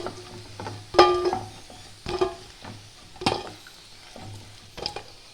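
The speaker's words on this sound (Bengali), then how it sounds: "এইভাবে আমি দুই পাশটা লাল লাল করে ভেজে নেব" Flour fritters (bora) frying in oil, a low steady sizzle marked by several sharp metallic clinks and scrapes of a utensil in the pan at irregular intervals, close by.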